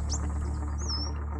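Garden birds such as sunbirds and bulbuls give a couple of short, high chirps and a thin whistled note near a café garden, over a low steady background hum.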